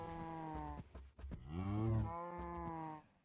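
A cow mooing in a Minecraft GregTech 6 modpack game, two drawn-out low moos in close succession, clear and fairly near with no talk over them.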